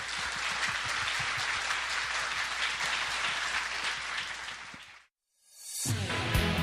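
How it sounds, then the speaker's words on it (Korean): Sustained audience applause fills a hall for about five seconds, a dense wash of clapping that cuts off abruptly before music starts up. "여러분 박수로 큰 박수 맞아주세요."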